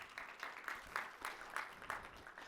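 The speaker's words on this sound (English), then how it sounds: "if you could please give them a round of applause for their sponsoring" A modest round of applause at an agricultural leaders' summit for sponsor Telstra: scattered, rhythmic clapping from a small audience, moderately close, with no talk over it.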